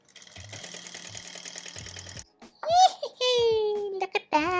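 Sewing machine stitching stretched elastic fabric for smocked pants, a steady rhythmic whirring for about two seconds, followed by a child's giggles and babbling voice close by.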